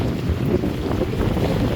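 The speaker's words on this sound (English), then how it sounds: "the wind picked up quite a bit" Wind buffets the microphone aboard a boat heading out into choppy water with long fetch, a steady low rumbling roar with waves and hull noise underneath, no voices.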